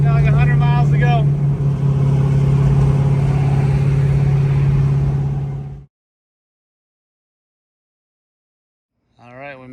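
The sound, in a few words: car driving along in 4th gear at 3,000 RPM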